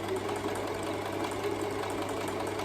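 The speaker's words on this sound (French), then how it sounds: "Il faut coudre en tournant le volant, c'est incroyable." Sewing machine stitching a weekend bag while turned slowly by its hand wheel, a soft, steady mechanical whirring and faint rhythmic ticking, close and quiet throughout.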